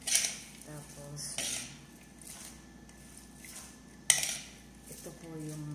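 Cabbage bake ingredients being mixed in a bowl, with metal utensils clinking and scraping against the dish in irregular strokes and a couple of sharper knocks, close up and fairly quiet.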